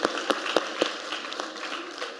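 Audience applause at a panel discussion on the anniversary of the Eastern Caribbean dollar peg, moderate clapping from a room of people with a few sharper claps standing out early, then thinning.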